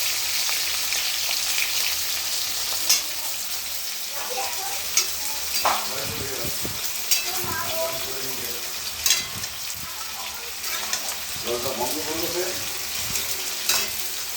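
Curry sizzles in a hot pan while a spatula stirs and scrapes it, steady frying hiss broken by repeated clinks and scrapes at close range, with no talk.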